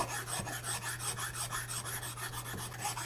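An Iwasaki file rasps a shallow facet into a guitar part, making close, steady back-and-forth filing strokes in an even rhythm, roughly three strokes per second, with no talking.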